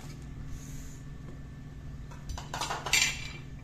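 Hot fried green chilli fritters (mirchi bhaji) are moved into a bowl: a low steady background hum, then a short burst of clinking utensil and dish contacts near the end, close and moderately loud.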